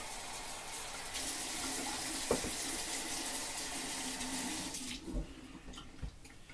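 Hot water running steadily from a household tap into a sink, a continuous close splashing hiss that shifts and thins toward the end, with a few soft knocks.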